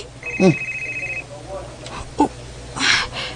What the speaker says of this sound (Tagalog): Si Melanie na ang nanawag